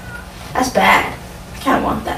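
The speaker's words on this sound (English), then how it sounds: "If you hear cats meowing," Cats meow twice, one drawn-out meow and then another about a second later, fairly close by. A person talks over and between the meows.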